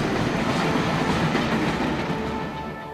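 A train on the Great Western Railway rolls along continuously, with a dense rumbling roar and rhythmic wheel clatter, loud and close, easing slightly toward the end.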